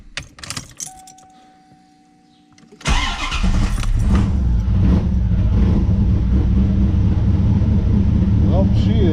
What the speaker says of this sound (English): Let's try to start up the car here.